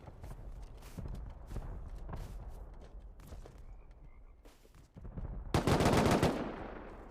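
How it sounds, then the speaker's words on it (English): Horse hooves clopping around a base in the online game Rust, heard as a run of sharp, irregular thumps amid gunfire-like bursts, ending in a louder, dense noisy rush near the end. "How many horses are there around this base?"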